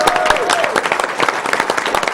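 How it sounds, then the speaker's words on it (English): Live audience at an Awesome Games Done Quick speedrun charity marathon claps and cheers, a dense, loud wash of applause filling the whole moment. "So let's get some applause and noise going"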